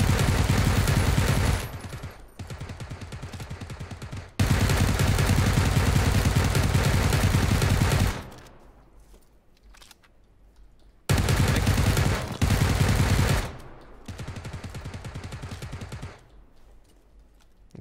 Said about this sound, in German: Ja, ich schieß mal die Deckung.